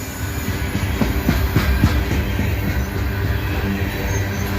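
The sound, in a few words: train cars rolling past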